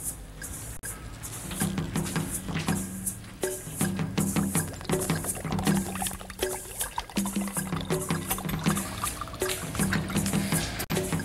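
Coconut water poured into a glass, a continuous trickling and splashing that runs under faint background music through the whole clip.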